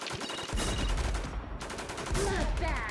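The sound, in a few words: MK gunfire in a shooter video game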